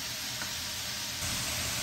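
Pre-cooked chicken sizzles steadily in a pan while being stirred, a continuous close hiss that swells slightly louder toward the end, with no talking.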